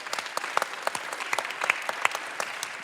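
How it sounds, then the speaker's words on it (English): Scattered audience applause at a live show's season finale, individual claps standing out sharply in an uneven, moderately loud patter that continues steadily. "So can we give them all a big round of applause?"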